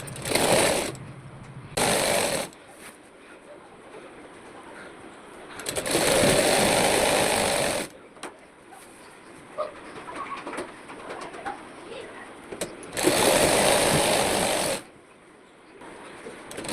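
A sewing machine stitching fabric for palazzo pants, running in three short bursts of steady whirring separated by quieter pauses, close and fairly loud, no talking.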